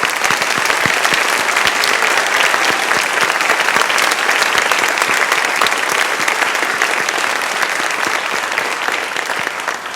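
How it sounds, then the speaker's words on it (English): Loud, sustained applause from a large crowd at a university presidential announcement, a thick continuous roar of clapping that holds steady for the full ten seconds. "If everyone could give a round of applause to Carl."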